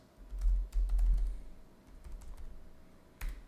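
Typing on a computer keyboard while entering a data source name during a TOTVS Protheus software installation, with a burst of fast keystrokes, a pause, then a few scattered clicks, close and fairly quiet.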